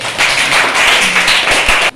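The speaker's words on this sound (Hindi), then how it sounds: "तालियां जोर से।" Loud, steady applause from a group at a school World Post Office Day event, honouring a student's letter; dense clapping fills about two seconds and stops abruptly.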